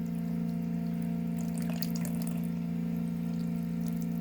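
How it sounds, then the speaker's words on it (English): Lathered hands are rinsed under a running sink tap, a continuous close stream of water with a steady hum beneath and brief splashing as the hands move through it, with no voices. "You want to make sure that you're getting all the lather off your hands."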